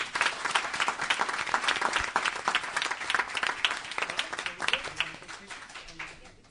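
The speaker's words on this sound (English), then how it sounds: "let's give them another round of applause" An audience claps loudly and steadily, the applause slowly thinning out toward the end, with a few voices mixed in.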